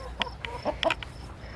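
Farm chickens cluck in short scattered bursts nearby over a quiet outdoor background, several calls in quick succession.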